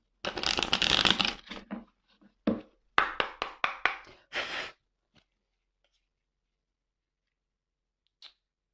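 Tarot cards riffled and shuffled by hand at close range, a dense rustling burst followed by a run of sharp, evenly spaced card slaps and cuts, then near silence with one faint tap.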